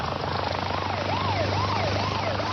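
A University Air Care medical helicopter thumps steadily with a low rotor drone, while a wailing siren rises and falls repeatedly over it, moderately close.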